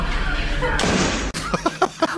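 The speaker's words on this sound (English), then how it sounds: "just going to pull this door too." An indoor door is pulled shut with a sharp, solid thud, followed by a person speaking nearby.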